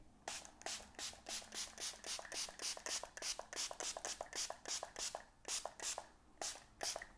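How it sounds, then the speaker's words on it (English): A rapid series of short, hissing spray bursts from a spray bottle of cleaner in an uneven rhythm, close and fairly quiet, with no voices. "put the top on, and spray."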